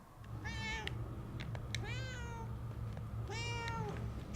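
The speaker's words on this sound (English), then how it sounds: "Shoo, cat, get out of here." A cat in the Murdered: Soul Suspect video game meows three times, each a clear, drawn-out mew with a pause between, over a low steady background hum.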